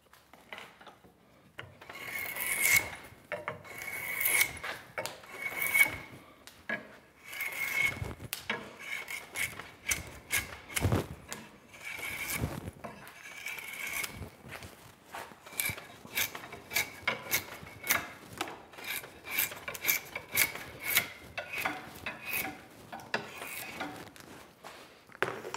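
A Windsor chair spindle is hand-shaped square, giving rapid, irregular rasping and scraping strokes of a tool on wood, close up and fairly quiet, with short pauses between bursts.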